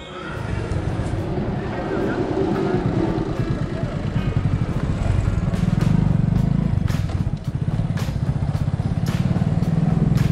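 A motorcycle engine runs steadily on a Konkan coastal road trip, its dense, pulsing low-end drone continuous throughout, with a few clicks and knocks over the top.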